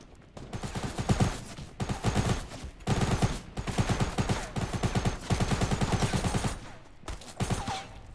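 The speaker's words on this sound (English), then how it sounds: "Oh my gosh, someone shot me from above." Heavy video game gunfire, loud rapid automatic bursts in close succession with short gaps between volleys, with no voice over it.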